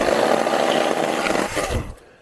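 A 20V 12-inch Wild Badger cordless chainsaw cuts through dry fallen wood in a short burst, a close rasping buzz of chain biting timber that drops away as the cut ends.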